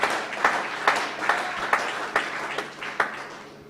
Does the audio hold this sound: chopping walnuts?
no